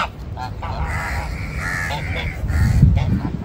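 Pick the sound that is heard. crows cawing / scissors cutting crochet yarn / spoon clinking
crows cawing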